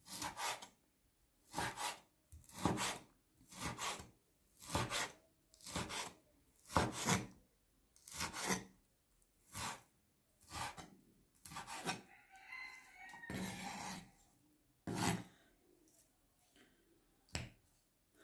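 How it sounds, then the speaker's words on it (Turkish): A knife slices through a frozen beef kidney in a regular series of crisp, rasping cuts, about one every second, close and fairly loud, with a scraping pause partway through. "Böyle içi buzlu olduğu için gayet de kolay doğrayacağımdan eminim."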